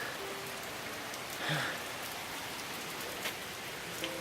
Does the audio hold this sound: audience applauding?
no